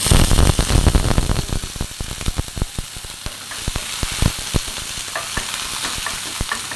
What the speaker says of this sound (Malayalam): അത് കഴിഞ്ഞിട്ട് അതിനകത്ത് ഉള്ളി ഇട്ട്,